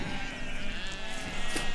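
Sheep graze on salt-marsh pasture near Mont Saint-Michel, their bleating carrying in a dense, continuous wash of overlapping calls from a flock, fairly loud, with no speech.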